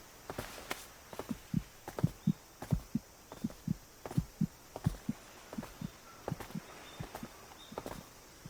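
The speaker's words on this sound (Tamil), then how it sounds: "நார்மலா ஒரு ஃப்ரெண்டு உன் ஹார்ட் பீட்டை இவ்வளவு வேகமா ஆக்குவாங்களா?" A fast heartbeat sound effect from an anime episode, with soft paired thumps repeating quickly and steadily throughout, fairly quiet, with no one talking.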